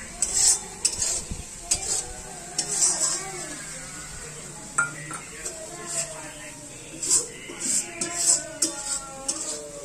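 Eggplant curry with mustard paste stirred in a pan on the stove, intermittent scraping and clinking of a spoon against the pot over a soft sizzle, while someone talks throughout.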